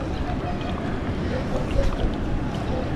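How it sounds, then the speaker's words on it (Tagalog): A father's boat carries flood-relief rice across the water at Bucana, its low steady rumble mixing with wind buffeting the microphone as people talk aboard. "malakas pa rin ang bangka ni tatay eh"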